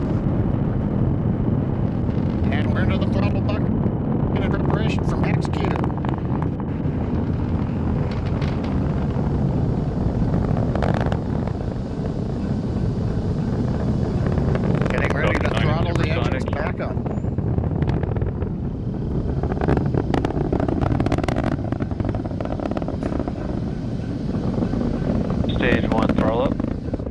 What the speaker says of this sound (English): Falcon 9 powered by 9 Merlin 1Ds. Pushing Dragon into low Earth orbit on the way to the International Space Station.